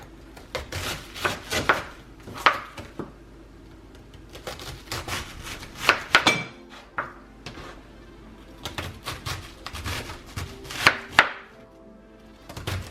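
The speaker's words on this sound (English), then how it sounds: "Now let's cut up the remaining of the cabbage." A knife chops cabbage on a cutting board, with irregular sharp chops and thuds, some in quick clusters and some spaced out, fairly close and with no voices.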